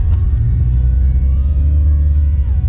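A learner driver's car pulls away from the kerb on an Australian driving test route in Coolaroo, with steady low engine rumble and road noise throughout, close and continuous, no speech.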